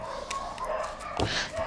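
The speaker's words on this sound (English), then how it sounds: "except when all the 10 dogs start barking all at once" Several of a neighbour's dogs, around ten of them, bark together at a distance, giving short yaps and calls over a steady background hum.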